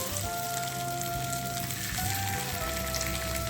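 Paneer pakoda frying in hot oil, a dense continuous hiss and crackle of bubbling oil at close range, loud and steady throughout.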